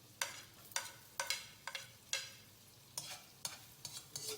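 Butter and garlic sautéing in a pan with a spoon, heard as about a dozen quick, bright scraping stirs over a faint, quiet sizzle, close by and with no talk.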